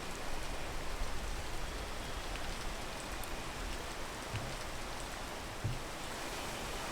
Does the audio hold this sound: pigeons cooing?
no